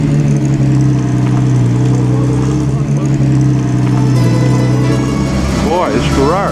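A Ferrari at the 2010 Mille Miglia road race rumbles loudly nearby, a steady low engine drone that rises into a revving sweep near the end, with someone talking over it.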